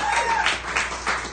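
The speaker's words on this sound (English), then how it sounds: "Give Damon up in the booth a nice hand." Comedy club audience applauding a booth technician, a short burst of scattered clapping from a modest crowd that swells in waves, with a faint steady tone underneath.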